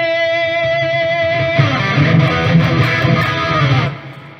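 A distorted electric guitar tone from a Reaper amp setup holds a long, loud sustained note, then breaks into a squealing vibrato wobble before cutting off, heard alone.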